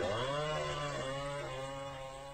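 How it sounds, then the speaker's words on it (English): A chainsaw buzzes steadily from a played video, its engine tone sliding downward at first and then holding a loud, continuous drone throughout. "that's a real chainsaw that's way too close to somebody's head"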